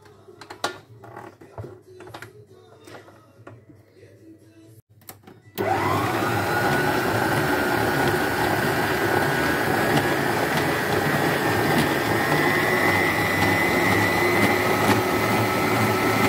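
An electric mixer starts up with a sudden whirring motor drone as it mixes semolina cake batter with sugar and baking powder. Before it starts, quiet kitchen clicks and taps are heard, and the loud, steady whir continues to the end.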